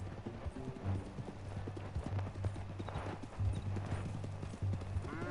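Horse hooves clip-clop steadily in Red Dead Redemption II, a repeating rhythmic gait that runs the whole way through, moderately loud, with faint game ambience underneath.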